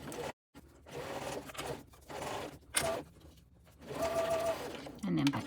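A sewing machine back stitches a curved seam in short whirring bursts, starting and stopping several times with brief quiet gaps, while a person talks over it.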